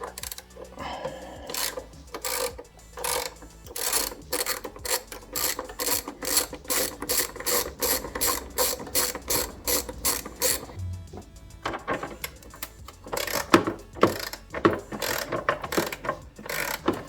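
A ratchet loosens screws on a Triumph Sprint ST 1050 front brake caliper during an overhaul, giving long runs of rapid, close clicking with short pauses between bursts and no speech.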